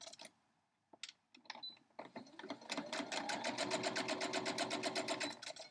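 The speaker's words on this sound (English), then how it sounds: "Now we're going to take this to the machine and you stitch right on that line." Sewing machine stitching a scrappy four-patch heart quilt block: a few clicks and handling noises first, then a fast, even run of needle strokes, close and moderately loud.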